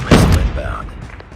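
A Predator missile strike in Call of Duty Mobile lands as a sudden close boom with a short rumbling tail, overlapped by brief game voice chatter.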